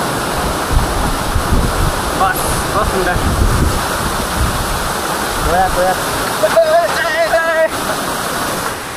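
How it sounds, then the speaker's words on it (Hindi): A waterfall rushes steadily on a mountain road near the Purung river in Kra Daadi district, Arunachal Pradesh, with strong wind gusting across the microphone, while someone talks briefly over the constant roar. "झरना बहुत ही सुंदर है"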